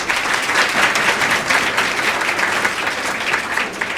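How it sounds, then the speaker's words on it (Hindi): A crowd claps loudly and steadily throughout, a dense, continuous round of applause at a student award ceremony held by a coaching institute. "एक जोरदार ताली बनती है।"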